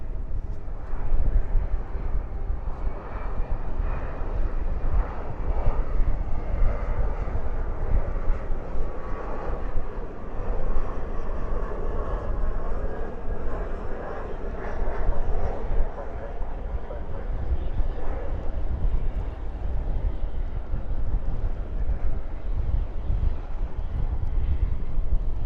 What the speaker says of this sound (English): Spoilers up, reversers out on this Envoy E175.